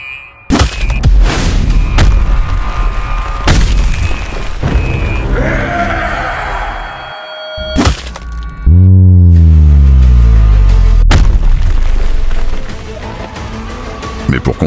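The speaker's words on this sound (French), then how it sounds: "Mais pour comprendre cette explosion" Dramatized explosion effects: several loud, sudden booms with deep rumbling tails, then a sustained, low, bellowing roar with falling tones, all without speech.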